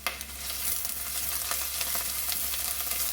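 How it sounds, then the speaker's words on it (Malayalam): Garlic frying in oil in a pan for a Kerala-style prawn curry, a steady close sizzle with faint stirring scrapes throughout and no talk. "ഇപ്പോൾ വെളുത്തുള്ളി ചെറിയൊരു ബ്രൗൺ കളർ ആകാൻ തുടങ്ങിയിട്ടുണ്ട്"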